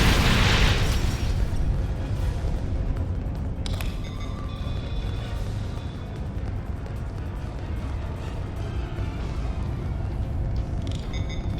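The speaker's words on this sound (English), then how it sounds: "Grenades are crazy, I guess." Grenade explosions in the Star Trek Online video game: a heavy boom at the start, then a sustained rumbling roar of blasts and a brief sharp burst near the middle, loud and close.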